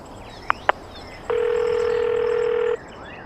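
Two short beeps, then a steady continuous phone tone for about a second and a half before it cuts off, with no voices.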